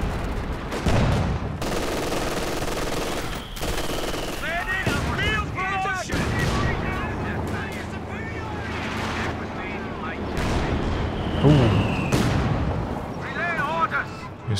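Panzer IV tank guns fire amid the dense battle noise of a Company of Heroes 2 match, with repeated booming shots over a constant rumble of other gunfire, engines and distant explosions, and some voices in between.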